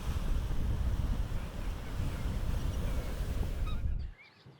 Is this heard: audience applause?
no